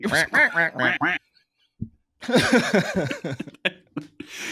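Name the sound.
duck quacking sound effect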